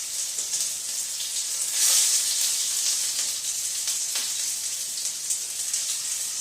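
The last batch of ginger chicken pieces fries in hot oil with a loud, continuous sizzle and hiss that swells briefly, without talk.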